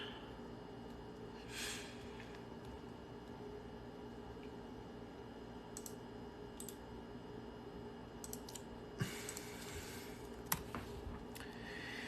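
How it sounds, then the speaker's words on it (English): Faint, sparse bursts of computer keyboard typing clatter against a quiet background hiss, coming in a few short clusters rather than a steady rhythm. "If you don't want me typing, just mute me instead of blocking."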